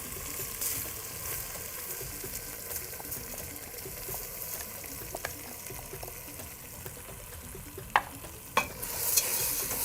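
Rice being stirred into a frying pan for sayadieh alongside a mixed fish casserole, a steady low sizzle under soft scraping strokes, with a couple of sharper knocks near the end.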